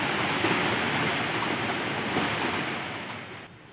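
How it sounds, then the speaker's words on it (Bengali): Heavy rain with gusting stormy wind during the Remal cyclone, a steady broadband roar that holds loud and even before easing slightly toward the end, with no voices. "আর মাঝে মাঝে ঝড়ের মতন প্রচুর হাওয়া দিচ্ছে, শুনতে পাচ্ছ বৃষ্টির আওয়াজ"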